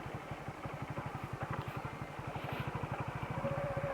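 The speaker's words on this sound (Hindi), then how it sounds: "देखो अब ज़्यादा ही स्लो हो रही है यहाँ पे बाइक, तो मेरे को यहाँ पे क्लच दबाना पड़ेगा" A motorcycle slows down with the clutch pressed, its engine thumping in a fast, even pulse that holds steady and loud throughout at close range.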